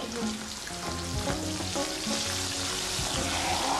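Food frying in a pan gives a steady, loud sizzle throughout, with a few soft clinks and stirring movements. Faint low tones sit underneath, and nobody speaks.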